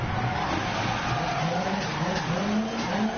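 A rally car in Dirt Rally 2.0 slides and skids, its engine droning steadily with rising pitch under a constant rush of tire and gravel noise, loud and continuous.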